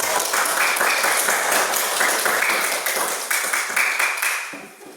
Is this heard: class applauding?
yes